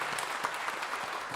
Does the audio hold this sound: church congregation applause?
yes